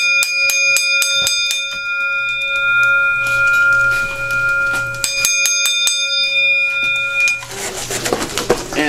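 A 6-inch Wheelock bell rung indoors, sounding as a rapid series of sharp metallic strikes with a steady ringing tone, then a louder rustling burst at the end; birds coo in the background.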